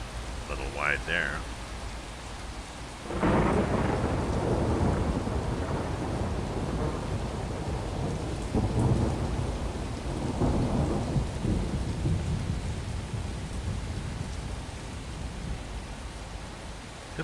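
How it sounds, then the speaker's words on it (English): A thunderstorm with rain in Euro Truck Simulator 2, driving through Hungary: a steady hiss of rain gives way to a loud, rolling thunder crash around a third of the way in, then rumbling continues under the downpour. "Good thunder, eh?"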